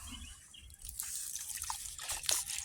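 Water poured over freshly tumbled rocks, a faint trickling and dripping splash with small irregular drips close by, fairly quiet throughout.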